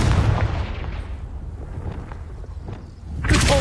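Confringo fire spell blast in the video game Hogwarts Legacy: a loud booming explosion at the start that rumbles and fades, then a second burst near the end.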